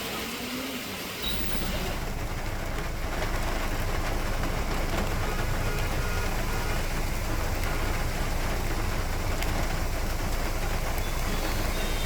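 Heavy rain pours down steadily across a city in Hyderabad, a dense, even roar that lasts the whole stretch, with possible traffic noise mixed in.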